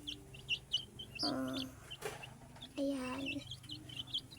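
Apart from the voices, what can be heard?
chicks chirping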